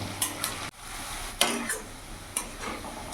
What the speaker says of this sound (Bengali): পেঁয়াজটাকে আমি ততক্ষণ ভাজবো যতক্ষণ না পেঁয়াজের বাদামি রং হয়ে আসছে